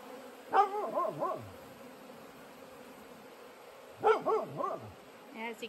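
Nala the dog barking at a distance during a spring beehive install, two short bursts of several quick yelping barks a few seconds apart over a faint steady buzz of bees.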